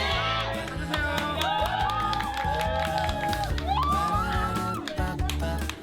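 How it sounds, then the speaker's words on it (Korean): Children cheer and shout excitedly together in a lively group over simple snacks like grilled chewy jjondeugi and frozen rice cakes, a loud, sustained crowd of young voices with whoops rising and falling. "별것 아닌 주전부리에 환호하는 아이들"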